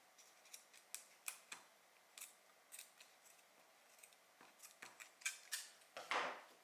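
Scissors trim excess zipper tape on a two-tone zipper wristlet pouch, giving a quick irregular series of faint, crisp snips and clicks, close by and quiet, with no talking.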